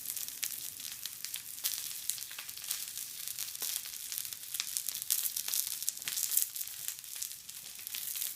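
Wild duck breasts sear in a hot pan on the stovetop, giving off a steady crackling sizzle with frequent small pops and spits, close up and continuous.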